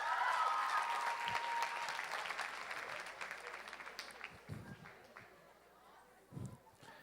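A church congregation breaks into loud applause that thins and tapers off over several seconds, leaving a few scattered claps and thuds with a voice in the room.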